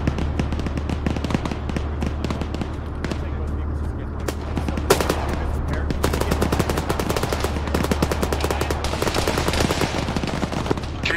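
Rifle and machine gun fire in Arma 3 during an urban battle, sustained rapid bursts and shots over a low engine-like hum, loud and dense throughout with faint voices mixed in.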